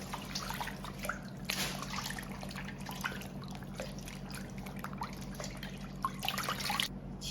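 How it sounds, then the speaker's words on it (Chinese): Raw fatty-and-lean pork being washed in clean water for meatballs, with soft continuous splashing and trickling, dripping and sloshing close by at a low level. "加入清水， 把肉先给它清洗干净"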